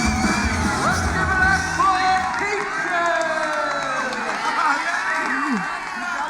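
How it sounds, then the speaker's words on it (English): A crowd cheers, whoops and yells throughout, a dense, continuous wash of many voices at moderate loudness. "Looks like the crowd loves her."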